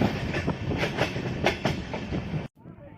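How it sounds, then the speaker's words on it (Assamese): A passenger train heading toward Puri from Bhubaneswar rumbles loudly with a rhythmic clickety-clack of wheels on rails, heard from inside, before cutting off abruptly near the end. "ভুৱনেশ্বৰৰ পৰা আকৌ ট্ৰেইনত পুৰীৰ অভিমুখে যাত্ৰা কৰি আছোঁ"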